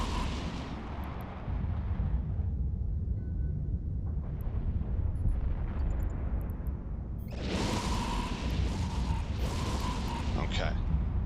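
Missile fire and explosions in the video game EVE Online: a sustained roaring rumble with broad bursts of blast noise and sharp clicks, while a voice speaks over the space combat.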